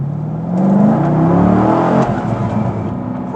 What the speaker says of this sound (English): Put my foot down, and within 3 seconds,